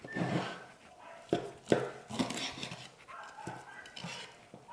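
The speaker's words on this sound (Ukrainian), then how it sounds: "Зараз я вам розріжу цю що на сковорідці, покажу." A knife cuts and scrapes through apple strudel pastry in a frying pan, tapping against the pan several times, with a few sharp clinks of metal and soft kitchen clatter in between.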